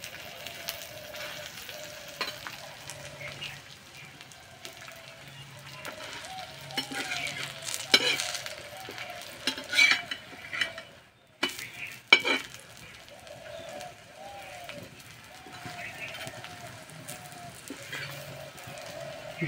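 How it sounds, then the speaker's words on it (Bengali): Food fries slowly in a pan with a soft, low sizzle and occasional stirring clatter, while a voice talks intermittently over it. "আর একটু সময় ধরে আস্তে আস্তে ভেজে নেব"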